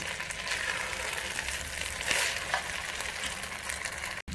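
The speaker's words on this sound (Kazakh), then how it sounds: "Күрішімізді майға қуырып, көзін салып, үстіне суын құямыз." Rice fries in oil in a pan with a soft, even hiss that stays faint and steady throughout, with no one talking.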